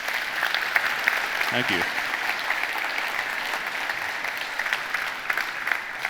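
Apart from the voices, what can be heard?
audience applause at a conference talk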